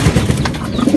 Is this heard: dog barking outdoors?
no